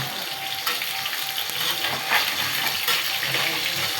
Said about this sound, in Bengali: ভাজা বসিয়ে দিয়েছি। এই যে ভাজা মাছ।